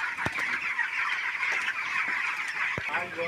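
Faint, busy clucking from a flock of broiler chickens eating and drinking fills the background, with a few sharp knocks and taps, fairly distant and steady.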